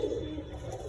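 Domestic pigeons cooing in a loft of fancy breeds such as bhavra and jeera hara, kept for flying; a steady, low, throaty murmur of several birds runs continuously and close by, with no talk.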